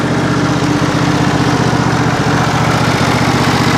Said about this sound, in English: Now that the engine's running real good, I'll go ahead and throttle it up, warm up the oil